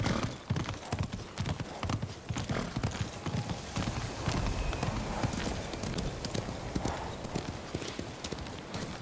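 A horse gallops in the video game Ghost of Tsushima, its hooves pounding out a continuous, fast, close clip-clop rhythm with rustling movement underneath.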